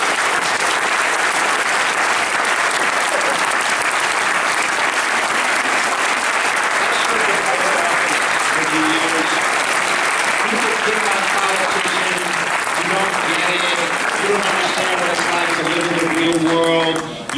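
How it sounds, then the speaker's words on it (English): A high school auditorium crowd at a state senator's oath-of-office ceremony gives elected officials a long, loud round of applause, dense and sustained, thinning near the end as a speaker's voice begins to rise over the fading claps. "Please give them a round of applause."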